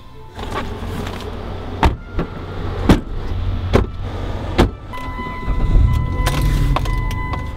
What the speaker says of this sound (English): So we just got our truck for the next 2 weeks from Camp Easy here in Reykjavik